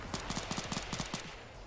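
An MP5 submachine gun in a Minecraft survival-games-with-guns match on the Mineswine server. Fairly faint, steady rapid-fire bursts roughly every tenth of a second, then it stops. No talking.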